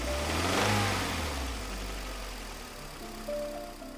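A car engine hums steadily with a low rumble that swells briefly early on, then settles into an even drone, fairly close and with no voices.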